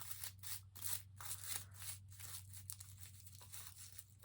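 Scissors snipping through loops of craft material, a series of soft, close, repeated cuts over a low steady hum.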